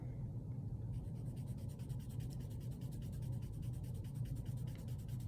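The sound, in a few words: colored pencil shading on paper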